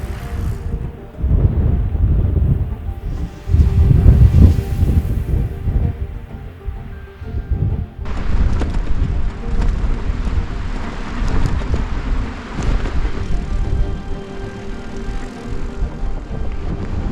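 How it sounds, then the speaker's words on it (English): Strong, roaring wind on a high mountain pass in Ecuador near Volcan Quilotoa at 13,250 feet, loud gusty rumbling pounding the microphone continuously, rising and falling without pause. "This wind is absolutely insane. Can't even pedal."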